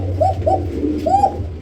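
Pigeons in a loft coo in a few soft, rolling phrases over a steady low background hum, fairly close and with no voices.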